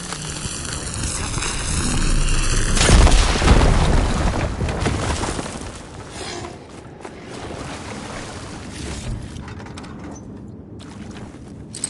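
An explosion blows up in the video game Horizon Forbidden West, a single loud close boom that bursts out and then rumbles and crackles away into settling debris, with no talking.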